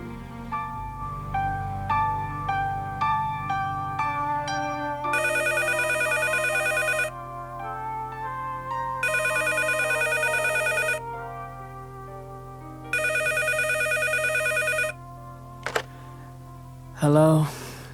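A telephone ringing in an audiobook: a short electronic ringtone melody plays first, then an old-style phone bell rings in three long bursts with pauses between them, ending with a brief click as the call is picked up.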